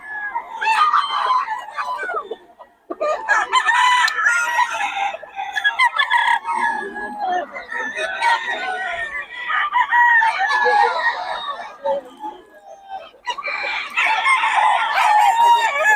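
Several bull stag gamecocks crow loudly and repeatedly, with overlapping cock-a-doodle-doo calls and some clucking close by, almost without a break through the whole stretch.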